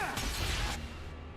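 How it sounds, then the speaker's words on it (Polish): A spell explosion in Dragon Age II, a short crashing burst with a whooshing rush that fades quickly, fairly quiet and alone. "Eksplozja."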